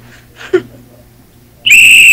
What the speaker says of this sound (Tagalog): May pito.